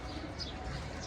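Caged pigeons cooing softly, a brief low murmur set against a steady background hiss.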